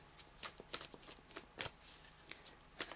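Tarot cards are shuffled by hand in a quiet room, a series of soft, close riffling bursts in an irregular rhythm, faint and with no talking.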